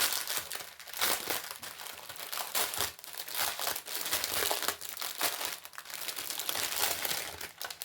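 A plastic bag of diamond painting drills is opened and handled, producing loud, continuous close-up crinkling and crackling with irregular bursts, with no voices over it.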